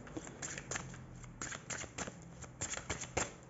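Tarot cards being cut and shuffled, with a run of quick papery riffles and soft slaps close by, irregular and moderately quiet, with no talking.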